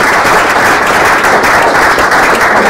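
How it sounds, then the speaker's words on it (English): An audience at an information session gives a round of applause, with steady and dense clapping heard loud and close throughout. "We're going to give a big round of applause for our panel speakers today."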